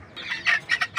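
Chickens being kept and watered at home give a quick run of soft, close clucks lasting about a second, with no talk.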